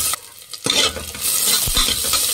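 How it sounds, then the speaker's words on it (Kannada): Onions frying in a pan with Byadagi chilies and curry leaves for Mangalore cucumber sambar, a steady crackling sizzle broken by a few close scraping stirs, with no voices. "ಚೆನ್ನಾಗಿ ಫ್ರೈ ಮಾಡಿ ಫ್ರೆಂಡ್ಸ್ ಈರುಳ್ಳಿನ."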